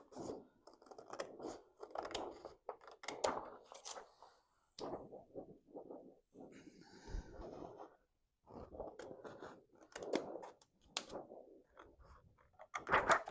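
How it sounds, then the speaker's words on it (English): Repeated close snipping and scraping as scissors cut material by hand, in uneven bursts separated by short pauses. "get a bigger pair of scissors."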